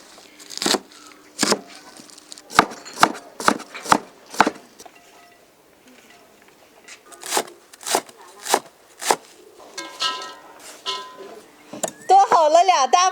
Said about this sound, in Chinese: 扣干水分的小蒜切碎